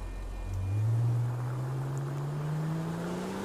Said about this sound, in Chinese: 我把车开进去啊。